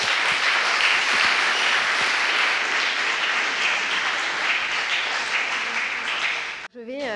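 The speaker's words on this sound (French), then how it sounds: "Je pense qu'on peut l'applaudir." An audience claps for a speaker at a talk on freedom and chance, filling the room with a dense, steady wave of applause from many hands that carries on loud and even before fading near the end.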